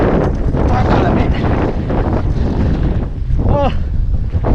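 Strong wind roaring across the microphone of a mountain bike rider on a trail, a constant heavy rumble with a brief voice near the end.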